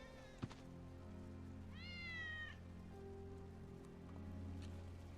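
One clear, drawn-out meow from Wedge's cat in Final Fantasy 7 Remake rises and falls mid-clip, with a soft rain-like patter and a low steady hum in the game background and a few faint clicks.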